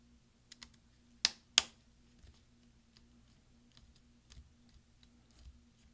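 A close bracket key on a mid-2010 13-inch MacBook Pro is pressed down until it snaps into place: two sharp clicks close together, then a few faint taps in near silence.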